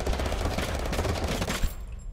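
Rapid bursts of video game gunfire from Totally Accurate Battlegrounds (TABG), dense and continuous, with a louder crack near the end, heard alone without talk.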